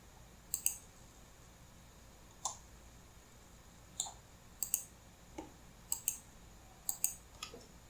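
Sparse keystrokes on a computer keyboard while entering LibreCAD drawing commands, sharp isolated clicks in small clusters at a quiet, close distance with no talk.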